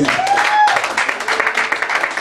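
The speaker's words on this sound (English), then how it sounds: "give yourselves a round of applause for coming out tonight" Dense crowd applause fills the clip, loud and continuous, with a brief whistle or cheer near the start.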